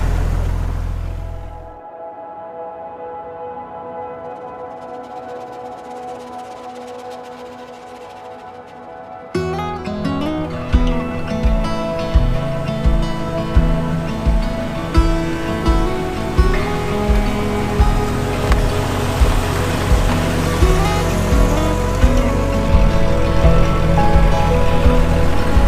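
A Jeep Wrangler TJ engine runs steadily, then gets louder and denser with a regular rhythmic pulsing as it revs and drives, staying loud and continuous throughout.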